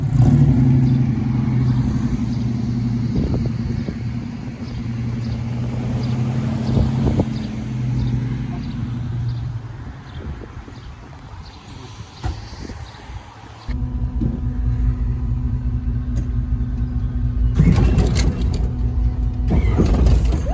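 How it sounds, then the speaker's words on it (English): A 1965 Chevrolet Impala lowrider on its first drive after restoration rumbles along at a steady engine drone, with a shift in tone partway and some wind noise, no voices. "we're about to go on our first ride"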